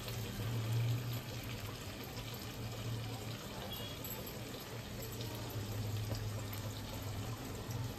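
Liquid pours into a cooking pan over a ground poppy seed, cashew paste and green chili mixture for a pointed gourd korma, a soft steady watery rush, faint and continuous.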